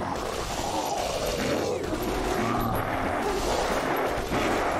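Relentless gunfire fills a Fallout: New Vegas fight, a dense, continuous clatter of shots and mechanical rattles without a break, loud and close, with no talk over it.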